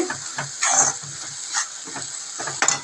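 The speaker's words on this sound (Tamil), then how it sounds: "ஸோ இந்த மசாலா போட்டுட்டு வதக்கி விட்டுக்கோங்க" Ground masala paste sizzles and hisses in a hot pan as a spoon stirs it in repeated scraping strokes, with bursts of louder frying crackle between the stirs.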